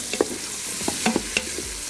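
Pre-cooked cheesesteak meat warming in an Instant Pot gives a light sizzle under a few scattered scrapes and clicks of a stirring utensil against the inner pot, close and without talk.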